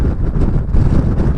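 Strong wind buffets the microphone on an exposed hillside above the Buttertubs pass, a steady loud roar with gusty low-frequency rumbling throughout and no voices.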